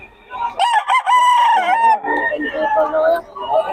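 A Red Kelso and Sweater cross gamecock crows loudly and close by, one long harmonic crow that breaks into ragged, wavering notes near the end.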